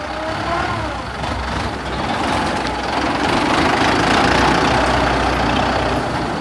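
A Kubota M9540 tractor registered in 2009, still in original condition, runs with a close, steady diesel rumble, holding an even idle whose loudness swells slightly midway.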